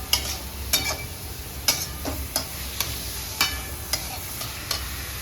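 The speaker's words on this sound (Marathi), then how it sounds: "शिमला मिरची परतली छानपैकी कांद्यामध्ये छान स्वाद पण आला" Capsicum and onions sauté in a pan for pav bhaji, a close sizzle broken by a string of sharp scraping stirs that come every half second or so, with no talk.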